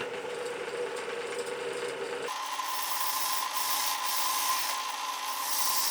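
Sandpaper rubbing against a woodturned piece as it spins on the lathe, a steady close abrasive hiss over a motor hum, the pitch shifting partway through as the speed changes.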